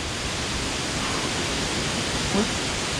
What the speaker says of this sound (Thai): น้ำตกตาด น้ำเตียน